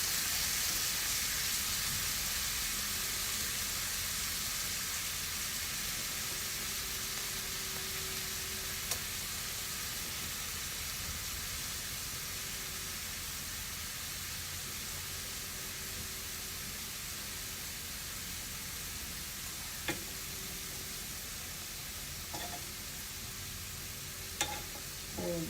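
Pepper shrimps fry in a pan with a steady, close sizzle and hiss throughout, broken by a few soft clicks and scrapes as the shrimps are turned over.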